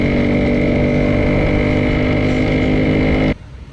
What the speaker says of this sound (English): calm your demons down and slow down and enjoy that sweet sounding two-stroke sound